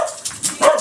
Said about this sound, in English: Okay, so probably another dog.